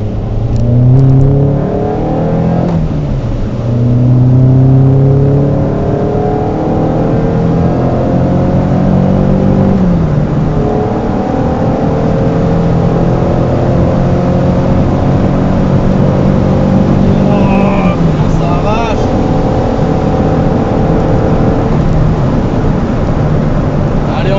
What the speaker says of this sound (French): Golf VR6, pneus qui crissent